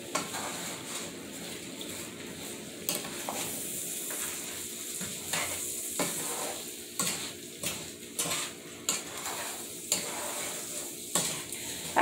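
Candied yams stirred in a sizzling pot, a steady frying hiss with repeated scraping strokes of a spoon against the pot, close up and with no voices.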